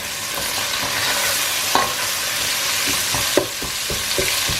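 Onions with a sprinkle of salt frying in hot oil for a chicken dupiaza, a steady close sizzle with occasional scrapes and knocks of a spoon stirring through the pan, no voices.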